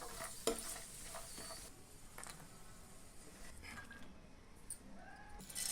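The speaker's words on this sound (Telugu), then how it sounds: "అదే పాన్లో మనం తీసి పెట్టుకున్నాం సేమియాలు, దాంట్లో వేసి ద్వారగా వేయించుకోవాలి" Vermicelli frying in ghee in a pan for jaggery semiya kesari, a soft, steady crackle with occasional stirring clinks throughout, no talk.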